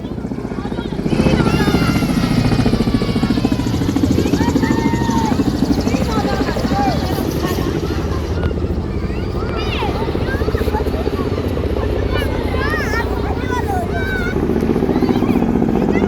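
A helicopter drones loudly and steadily nearby at a Navy Day event while several people talk and call out over the engine noise.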